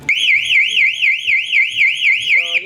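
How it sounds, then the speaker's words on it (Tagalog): A security alarm siren that has not been disarmed wails loudly and close, its pitch sweeping up and down in a steady rapid cycle, about six undulations in under three seconds. "mag-a-alarm siya. Hindi kasi siya naka-disarm."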